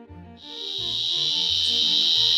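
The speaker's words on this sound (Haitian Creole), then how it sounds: "si c'est le chant des cigales" A shrill, steady buzzing of cicadas swells in and holds outdoors, loud and continuous, with a soft pulsing low tone beneath it and no talk.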